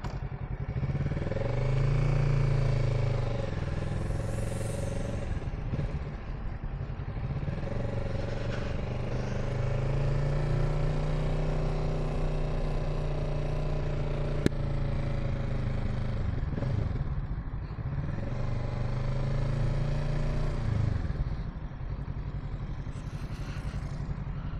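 Kawasaki Z650 motorcycle ridden solo up the winding Genting road, with a loud, close engine drone that rises and falls through repeated revs and gear changes and heavy wind rush throughout.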